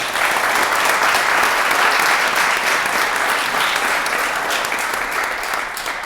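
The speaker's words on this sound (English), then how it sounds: "Can we give them a round of applause, please?" A city council meeting crowd gives sustained, dense applause for sponsors, steady and loud for the full stretch before tapering slightly at the end.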